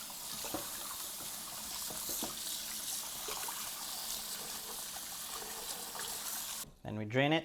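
Water pours and trickles steadily from a sink or tap while raw chicken soaked in a salt-and-water brine is drained, a continuous close splashing wash that stops abruptly near the end, with voices faintly underneath.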